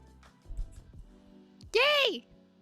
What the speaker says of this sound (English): Or I'll move the mic away from the blow dryer.